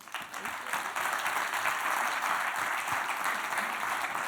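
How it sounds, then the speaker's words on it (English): An audience at a business panel applauds the panelists in a steady, dense round of clapping that swells after the first second and holds at full strength to the end. "round of applause, ladies and gentlemen"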